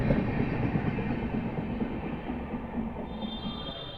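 An express passenger train in India rolls steadily along the rails, a loud, continuous rumble with rhythmic wheel clatter and a faint high whine creeping in near the end.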